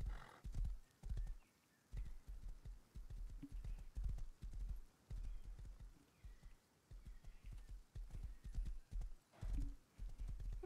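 A horse in the video game Rust gallops with a steady, rapid clip-clop of hooves close up, broken by a couple of short pauses and a faint whinny.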